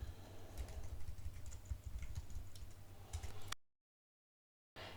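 Typing on a computer keyboard into a Google image search: a fast, steady run of close key clicks for about three and a half seconds, then abrupt silence before the sound resumes briefly.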